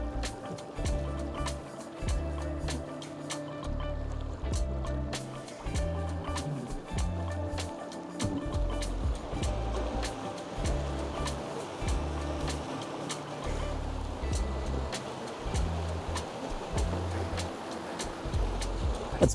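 ePropulsion Spirit 2 electric outboard boat motor running at full throttle, a steady low hum with water rushing and splashing around the hull, continuous and close throughout.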